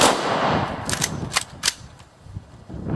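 An honor guard fires a rifle volley at a funeral, sharp outdoor cracks in a quick ragged cluster of several shots, loud and near, followed by fading reports.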